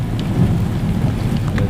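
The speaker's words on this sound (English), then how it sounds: "Thunder's rumbling in the background." Low thunder rumbles steadily beneath continuous rainfall at a manufactured home site, a deep sustained roll with light patter on top, no voices.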